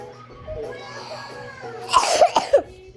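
A child coughs a few times in quick, harsh bursts near the mic, following a stretch of quieter background sound.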